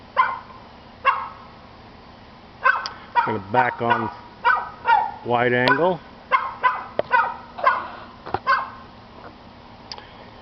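A dog on a homestead barks repeatedly in short bursts with some whining yelps, moderately close outdoors, while someone talks over and between the barks.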